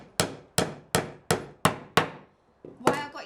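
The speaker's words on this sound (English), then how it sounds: "knock it all the way in." A hammer knocks a nail fully into wood while building a bug hotel: six crisp, close strikes at a steady pace, a short pause, then a couple of heavier final blows with a brief metallic ring.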